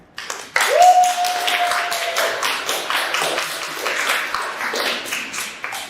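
A room full of people at a post-reading Q&A claps steadily, the applause holding at an even level throughout, with a brief whoop near the start.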